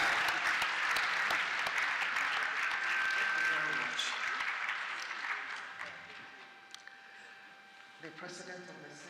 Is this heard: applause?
yes